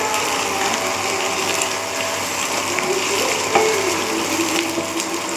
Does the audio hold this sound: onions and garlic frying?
yes